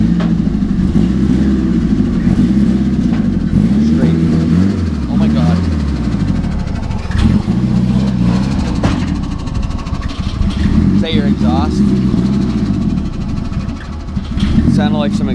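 A Nissan 240SX's exhaust rumbles loudly at idle and repeatedly rises and falls with revving, close by, while voices talk intermittently over the engine noise.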